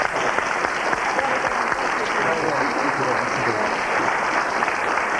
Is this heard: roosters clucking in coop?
no